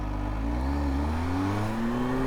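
A heavily modified Kawasaki Z H2 motorcycle making 250 wheel horsepower revs up, its engine note rising steadily and loud, close by and alone.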